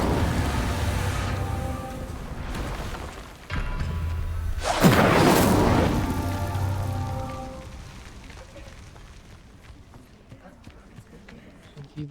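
A fire spell cast in the Hogwarts Legacy video game erupts as a loud, roaring whoosh that swells over about a second and then fades, set against a steady game soundscape.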